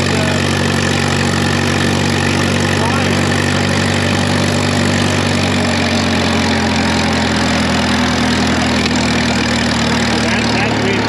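A Case tractor engine with a Case-O-Matic transmission runs steadily in road gear, a loud, continuous mid-pitched drone close by with no pauses.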